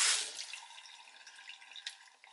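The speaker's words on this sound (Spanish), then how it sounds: "Vamos a seguir tallando, vamos a seguir lavando hasta retirar el exceso de jabón" A soft, steady trickle of running water while soapy makeup brushes are scrubbed and rinsed, with small splashes and drips, close by and fairly quiet, with no voices.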